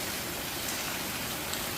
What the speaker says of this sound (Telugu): ఎంత పెద్ద వర్షం అంటే అంత పెద్ద వర్షం అయితే వస్తుంది